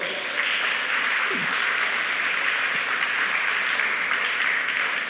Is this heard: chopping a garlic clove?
no